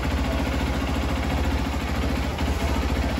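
A Hero XPulse 200 4V motorcycle engine with a starting and jerking problem runs steadily after being restarted, a close, continuous low mechanical drone with a regular pulsing beat and no talk.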